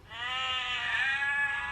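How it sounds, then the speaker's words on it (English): Recorded sheep bleat from a farm animal sound book, a single clear, drawn-out baa lasting under two seconds, fairly close and steady with a slight wavering pitch. "What sound do the sheep make?"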